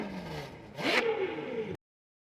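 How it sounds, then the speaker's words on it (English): A V12 car engine revving, a smooth continuous high-pitched roar that climbs sharply to a peak and holds briefly before cutting off abruptly, with no one speaking. "The sound of a V12 is often compared to operatic singing"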